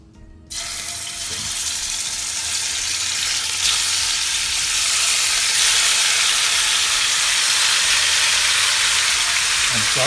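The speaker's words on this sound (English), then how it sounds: "so once this oil is hot, my pan was really hot, and so I'm going to add my meat to it" Marinated pork for a vindaloo hits a very hot oiled pan, bursting into a loud, steady hiss after a moment of quiet and sizzling continuously at close range.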